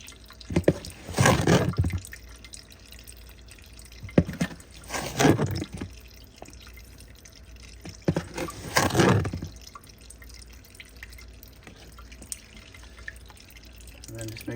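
Water runs in three separate bursts into a rock tumbler barrel holding agates, grit residue and borax, pouring and splashing close by, with quiet pauses between the bursts.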